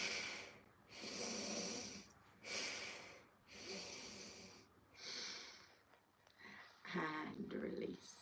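Slow, deep breaths during a qigong routine, each long airy inhale and exhale rising and falling in a steady rhythm, close and soft, with a voice speaking near the end.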